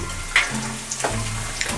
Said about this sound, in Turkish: patateslerimiz pişiyor